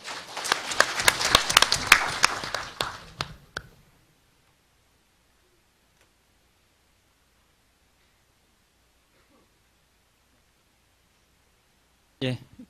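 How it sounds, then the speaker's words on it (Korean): An audience at a Gyeonggi Province policy debate forum applauds to welcome a presenter, a dense burst of clapping lasting a few seconds that fades out, followed by long near-silence. "박수로 환영해 주시기 바랍니다"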